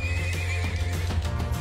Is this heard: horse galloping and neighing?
yes